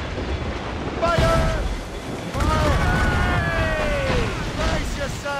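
Ship cannons on a naval vessel in the Assassin's Creed Rogue video game fire during a battle with a large warship, heavy booms over wind and sea noise. Shouted crew voices and whistling projectiles can be heard through it.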